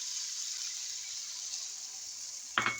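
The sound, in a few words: small cup of water poured into potato capsicum curry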